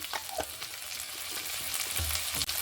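Chopped tomato and cumin powder fry in a pan, giving a continuous close sizzle broken by quick stirring scrapes and clicks.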